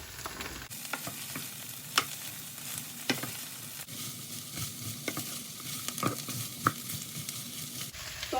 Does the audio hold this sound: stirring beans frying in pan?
yes